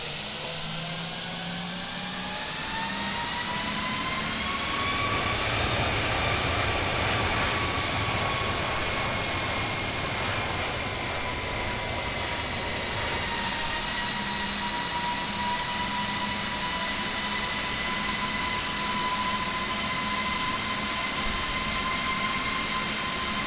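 Aerosoft A319 airliner jet engines in the FSX flight simulator, a steady loud turbine whine with layered tonal harmonics and a low rumble, the pitch shifting slightly partway through, continuous with no voices.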